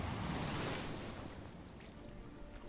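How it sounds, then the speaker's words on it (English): Ocean waves around a boat in an Unreal Engine 5 game with a Roman open world, a steady broadband wash of surf and wind that swells at first and then settles into a softer rush. "I don't care if the waves match."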